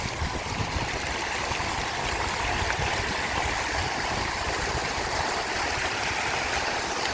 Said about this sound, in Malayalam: സൂപ്പർ വെള്ളച്ചാട്ടം പാർക്കിലെ കാഴ്ചയാണ് കേട്ടോ